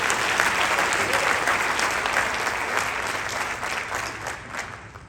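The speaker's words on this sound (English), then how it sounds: "Please join me in giving a round of applause to our sophomore recipients." Sustained applause from a sizable crowd at a high school award ceremony, steady and dense throughout, fading slightly toward the end.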